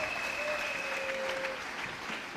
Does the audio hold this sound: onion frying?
no